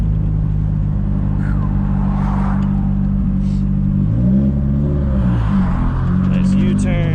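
A drift car with a heavy clutch swings through a U-turn, its engine droning steadily close by with low harmonics that dip and rise as the throttle changes mid-turn, and a voice briefly talks over it.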